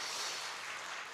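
A congregation claps steadily at an early-morning church prayer service, a dense, even patter of many hands filling the room at moderate volume.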